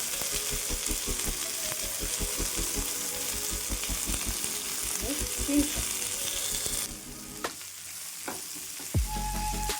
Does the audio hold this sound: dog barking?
no